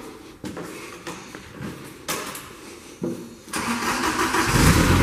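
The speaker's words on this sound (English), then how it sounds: "You hear that cat engine come to life." Caterpillar engine on a 2005 Princeton PBX piggyback forklift starting: a few clattering cranking bursts, then the engine catches and rises into a loud, steady rumbling run, close by.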